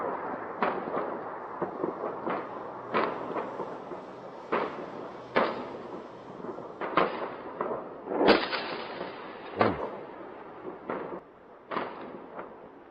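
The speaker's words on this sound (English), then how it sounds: "These are Israeli interceptors versus Hezbollah rockets." Israeli interceptors meeting Hezbollah rockets, a string of distant sharp blasts and booms at uneven intervals over several seconds, one louder crack partway through, no talk.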